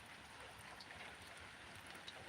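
Steady rain falling outdoors, a soft continuous hiss of drops on surfaces with no clear voices, even and moderately faint throughout.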